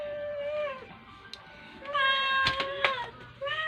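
A cat meows repeatedly at close range, giving several drawn-out, tonal cries with short pauses between them. The calls grow louder toward the end, with a few sharp clicks mixed in.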